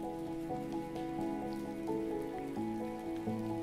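Rainfall over plants and open countryside makes a constant close patter, blended with soft, slowly shifting sustained music and free of speech.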